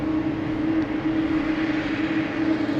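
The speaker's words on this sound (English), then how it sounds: "So we got the JetBlue here. The A220." A JetBlue Airbus A220 airliner at Boston Logan Airport produces a continuous, even engine roar with a steady low drone, filling the whole moment without voices.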